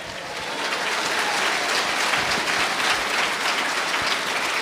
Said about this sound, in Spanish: Fuerte aplauso, Iglesia de Cristo.